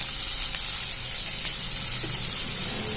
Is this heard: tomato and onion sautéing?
yes